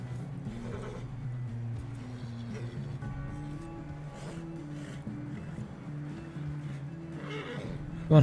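A horse neighs and whinnies in the Red Dead Redemption 2 video game, a drawn-out call over a steady game soundscape of ambient rumble, with a louder burst right at the end.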